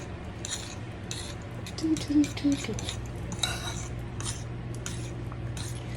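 Honey, salt and lemon juice are being mixed into coleslaw dressing in a bowl, giving soft scraping and clinking utensil strokes against the bowl that come in short bursts over a steady low background hum.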